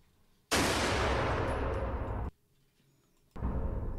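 Gunshots in a vintage radio crime drama: a loud sudden burst that rings out for nearly two seconds before cutting off, a pause, then a second loud blast, with no talk over them.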